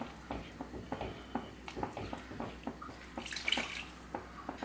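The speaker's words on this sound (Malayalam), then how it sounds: "ഇതിലേക്ക് നമുക്ക് വെള്ളം ഒഴിച്ചു കൊടുക്കാം" Water is poured into a garlic curry gravy, making a faint, close trickle broken into soft splashing pulses, with a brief brighter gush near the end.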